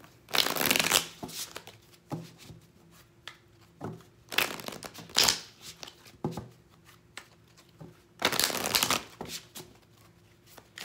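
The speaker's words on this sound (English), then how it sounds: "I'm going to pull three cards." Tarot cards being shuffled in three loud bursts of riffling and sliding, each lasting about a second, separated by quieter handling noises and pauses, close to the microphone with no talking.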